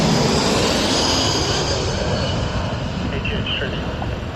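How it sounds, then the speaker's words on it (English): Firefighting plane making a low flyby: a loud, steady, broadband engine roar that stays close and heavy for several seconds and fades slightly toward the end. "This firefighting plane doing a low flyby."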